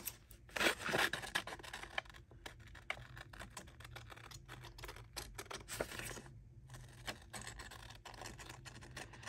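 Scissors cut through paper in a string of quiet, irregular snips and crisp rustles, close by, with no talking.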